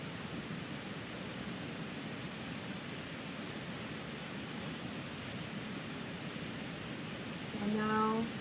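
A Catskills waterfall roars in a steady, dense rush of falling water heard from its foot, constant and even throughout, with a brief tonal chime near the end.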